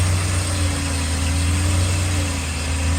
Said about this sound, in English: Restart it, let it run.